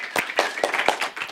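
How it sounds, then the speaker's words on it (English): A church congregation applauds in a short burst of a handful of scattered claps, close and moderately loud, with no talking. "Round of applause."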